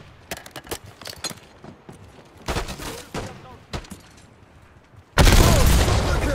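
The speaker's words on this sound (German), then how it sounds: "Werfe eine Granate!" Scattered gunshots crack through a Black Ops 6 campaign firefight, then a grenade explosion bursts in loud and close, its heavy roar sustained to the end.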